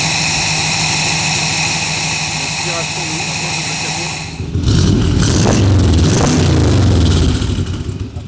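A bodybuilt Corvette C3 engine runs with the hood open, starting after a quieter stretch of about four seconds and then settling into a loud, close, steady idle with deep low rumble.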